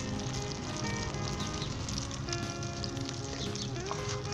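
Spring onion omelette sizzling in butter in a pan over very low heat, a steady, close, even crackle and hiss throughout with no talking.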